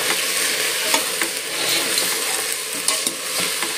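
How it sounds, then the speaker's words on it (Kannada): Salt, ginger garlic paste, turmeric and garam masala stirred together in a hot pan, a continuous sizzle with scraping spoon strokes and a few light clinks, no talking. "1 ಸ್ಪೂನ್ ಶುಂಠಿ ಬೆಳ್ಳುಳ್ಳಿ ಪೇಸ್ಟು, ಸ್ವಲ್ಪ ಅರಿಶಿನ, ಸ್ವಲ್ಪ ಗರಂ ಮಸಾಲ, ಇದಿಷ್ಟು ಹಾಕ್ಕೊಂಡು ಮಿಕ್ಸ್ ಮಾಡಬೇಕು."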